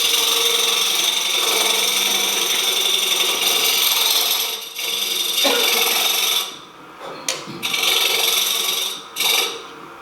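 A wood lathe turns a bangle while the inside is trued up, giving a steady close whirring scrape with rubbing tool contact, broken by brief pauses near the end.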